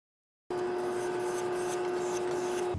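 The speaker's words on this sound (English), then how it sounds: "So I was just sharpening on this side." A knife blade rubs back and forth on a Naniwa traditional water stone, raising a burr along one side of the edge, a steady close wet rasp running unbroken after a brief silence.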